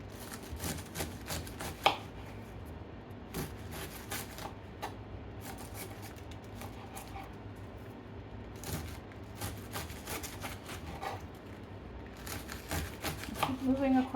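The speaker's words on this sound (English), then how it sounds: "once I shred the cabbage, then I kind of pull it apart as it goes into the bowl." A knife steadily shreds a head of cabbage by hand on a cutting board for homemade coleslaw, giving a rapid, rhythmic series of close crisp chops with brief pauses, under occasional talking.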